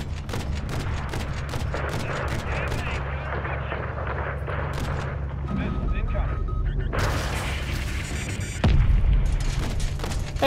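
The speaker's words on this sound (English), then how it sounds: "Shooting missiles at me, you sons of bitches!" Missile explosions and heavy gunfire roar in a Modern Warfare III campaign battle at an aircraft hangar, a dense continuous barrage of booms and blasts that swells louder toward the end.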